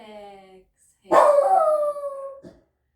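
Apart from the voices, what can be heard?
dog barking in the background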